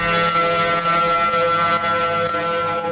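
Loud, steady wail of a tsunami warning siren in Hawaii holding a sustained tone, heard alone without voices.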